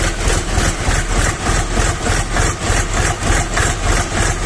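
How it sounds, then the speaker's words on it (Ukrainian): The engine of a Kentavr 244SDX mini tractor idles roughly and steadily up close while cold, misfiring with a rhythmic chugging pulse and uneven knocking beats throughout. "От тепер це двигун звучить холодний"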